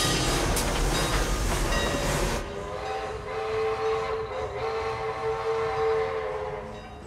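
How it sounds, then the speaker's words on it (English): A train rumbles along the tracks with a steady, sustained tonal hum and broadband noise, louder at first and then settling into a continuous drone. "Somebody got the train up and running."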